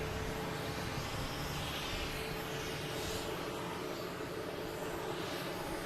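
A Delta Embraer E175 jet takes off at Boston Logan Airport, heard as a faint, distant, continuous engine roar that holds steady throughout.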